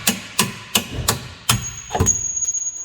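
Five sharp metal hammer blows strike a rusty-free car's sway bar link, spaced roughly every half second and loud up close, followed by a thin ringing tone as the strikes fade.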